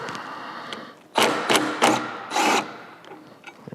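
A power tool spins off T27 fasteners and 7/16 bolts during rear shock and light upgrades on the El Diablo, firing in four short, sharp whirring bursts close by between quieter pauses.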